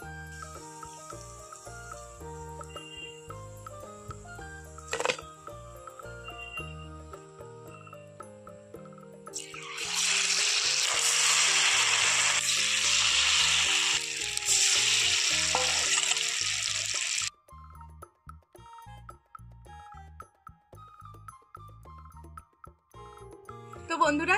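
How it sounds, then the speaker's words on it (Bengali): Stuffed potato khasta snacks deep-frying in hot oil, a dense steady sizzle that swells loud midway then cuts off abruptly, with quieter cooking noises before and after. "সবগুলোই আমি এখন মোটামুটি যেইগুলো তৈরি করেছিলাম সেগুলো আমি এখন ভেজে নিলাম"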